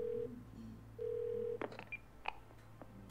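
Phone call placed in the video game Twelve Minutes: two long steady dial-tone beeps, then a quick run of dialing key tones and clicks, clean and close with no talking.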